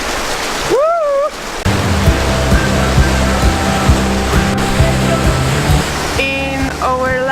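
Waterfall in the Faroe Islands heard up close, a loud, steady broadband roar of rushing water throughout, with brief whoops and cheering voices over it near the start and again near the end.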